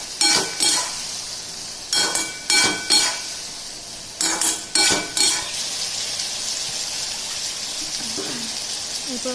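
Hilsa curry with previously fried brinjal being stir-fried in a pan: steady oil sizzle with several bursts of spatula scraping and stirring in quick clusters, then a calmer simmering hiss near the end.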